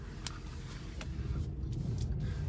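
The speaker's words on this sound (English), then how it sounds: "I'm also going to move this car back into the garage" A car moves back into a home garage, its engine giving a low steady rumble close by with a few faint clicks and knocks over it.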